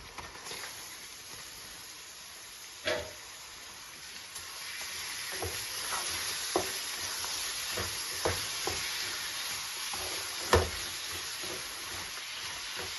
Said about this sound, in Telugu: ఇప్పుడు మటన్ పీసులు దీంట్లో వేసేద్దామండి